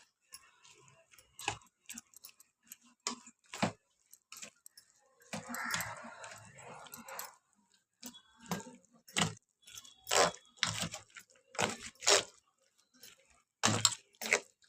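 Banana flower vada batter with coriander, curry leaves and salt is mixed by hand, making quiet, intermittent wet squishes and squelches in an irregular rhythm, close to the microphone.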